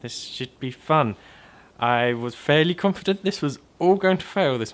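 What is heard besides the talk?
No everyday noises stand out.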